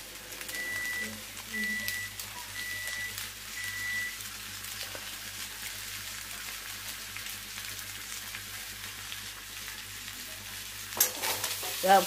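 Pasta with chili flakes, oregano, pepper and salt being stirred in a pan, heard as a steady soft sizzle with faint scraping throughout and a burst of louder clattering at the very end.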